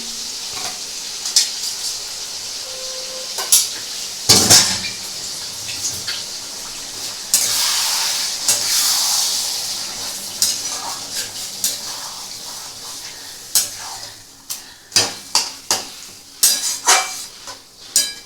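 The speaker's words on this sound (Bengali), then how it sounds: "এটা কিন্তু ভালো করে কষছি" Mutton liver with spice paste and a splash of water is sautéed in a pan: a strong sizzle rising midway, broken by sharp clanks and scrapes of a spoon against metal, with no talking.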